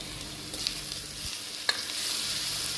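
Chopped onions with salt sauté in a pan while cooking mutton paya: a soft, steady sizzle with occasional stirring scrapes and clinks, close and quiet, no talking.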